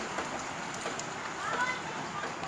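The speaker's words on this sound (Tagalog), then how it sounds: "Naulan guys." Steady rain falls outdoors as a soft, even hiss of drops, with a person talking over it.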